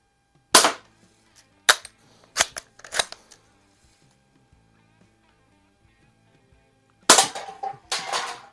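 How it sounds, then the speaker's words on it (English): Low-powered budget BB pistol shooting at cans: several sharp snapping shots with small tinny impacts, a quiet stretch with faint handling noise, then two louder bursts near the end, close and without speech. "So this one just barely has enough power to puncture the can."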